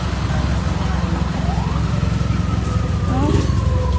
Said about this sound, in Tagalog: Napaka-traffic.